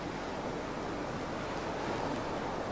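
Ocean waves on a beach form a steady, even wash of surf noise that stays constant throughout, without distinct breaking surges and with no voices.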